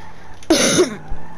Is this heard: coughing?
yes